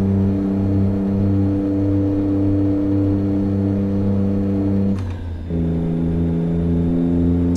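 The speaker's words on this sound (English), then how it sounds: "so I'm gonna over rev it on purpose here." Heavy truck engine in American Truck Simulator held at high revs, a loud steady drone with strong harmonics that briefly dips and shifts pitch near the end, as if cutting out and recovering, with no talk.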